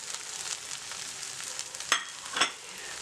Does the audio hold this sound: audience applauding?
no